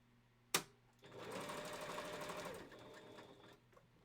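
A sewing machine stitches through Velcro with a soft, steady whirring run of about two and a half seconds. A sharp click comes before it, and a fainter trailing hum follows, all close and quiet.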